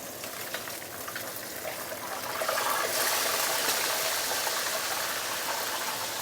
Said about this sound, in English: Continue use medium-high heat to fry another side for another 2 minutes.